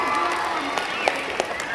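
A crowd at a school science event applauds a student after a football physics demonstration, a dense steady wash of clapping with a few louder claps popping out and voices mixed in.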